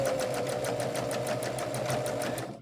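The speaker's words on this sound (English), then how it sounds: "You can do a little bit of a back stitch." A sewing machine back stitches a quilt seam, a short, steady run of rapid needle strokes at close range, tapering off at the end with no talking.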